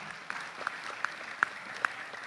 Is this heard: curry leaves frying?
no